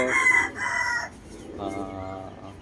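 A gamefowl rooster crows in a couple of moderately loud harmonic calls, the first bursts strong and a later one softer and lower, set against a faint outdoor background with no talking.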